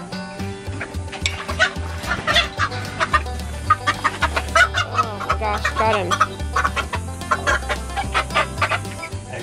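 A large fighting-breed rooster clucks and squawks repeatedly in agitated bursts close by while being cornered, as people briefly speak over the commotion.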